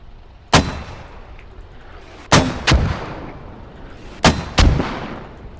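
In a military video game, a heavy weapon fires at an MRAP vehicle downrange in three pairs of sharp, booming shots, each with a rolling echo, loud and spaced about two seconds apart.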